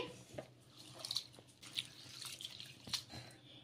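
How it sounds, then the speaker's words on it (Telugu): Water draining off washed poha (flattened rice) in a kitchen, with soft trickling and a few small splashes and drips, quiet and close, with no voices. "మరి వాటర్ అంతా వంపేసుకుందాం కన్నెగా."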